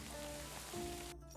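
Steady rain falls in Kingdom Come: Deliverance II, a faint, even hiss of drops on surfaces with no voices over it.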